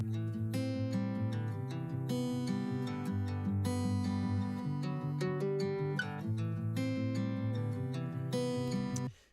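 Acoustic guitar for a country-style track, a close microphone blended with a room microphone, plays a sustained chord progression with steady rhythm, full and slightly roomier, alone throughout before cutting off at the end.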